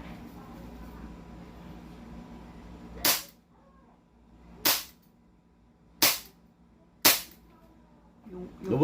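An airsoft gun fires with blowback action: four sharp, loud cracks land at uneven intervals over a quiet background, with a fifth starting just as the clip ends.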